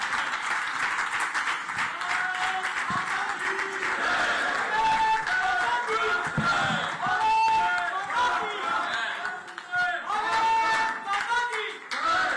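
A large audience at a Rajasthani diaspora conference in a Surat hotel applauds to welcome the Rajasthan Chief Minister, sustained clapping and crowd noise filling the hall steadily for several seconds, with chatter mixed in.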